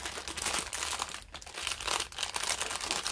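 Plastic packaging from a Temu diamond painting kit crinkles and rustles close by in dense bursts, continuous throughout with no talking.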